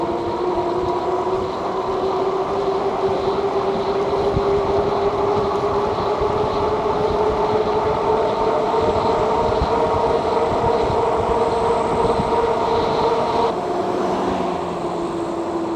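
A Yoloway YR20 e-bike (2000 W peak) rides on pedal assist 4 at around 30 mph, with a steady rising motor whine over constant loud wind and road rumble that continues without a break.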